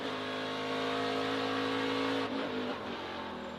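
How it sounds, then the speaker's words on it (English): A race truck engine revs hard and steady at close range, its pitch dipping and wavering as the truck jumps under braking into turn 1, with no one speaking. "Right when you want to push on the brake zone, you'll hear the truck jump"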